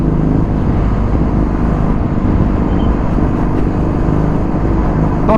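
Steady engine drone and road noise from a Kawasaki retro motorcycle riding in traffic, loud and continuous with wind rush throughout and no voices.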